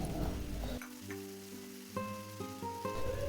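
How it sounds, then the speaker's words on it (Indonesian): Long beans stir-frying with seasoning in a pan, a steady close sizzle with stirring scrapes, while tonal musical notes play over it. "Tumis-tumis kembali hingga semua tercampur merata dan kacangnya setengah matang"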